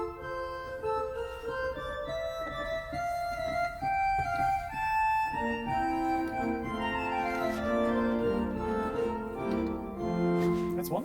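Pipe organ played with a quint stop as a solo voice, a sequence of sustained reedy notes moving through a slow melodic line over a low held bass, continuous and resonant without talk.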